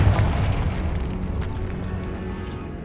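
A Confringo spell blast in the video game Hogwarts Legacy: a loud, deep booming explosion that starts at full force and rumbles on, fading gradually over a few seconds.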